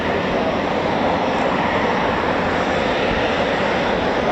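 Eurofighter Typhoon FGR4 jet engines of 12 Squadron run up at an RAF station, giving a loud, continuous, even roar with no talking.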